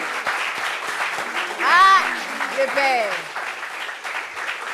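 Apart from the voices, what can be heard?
studio audience applauding a guest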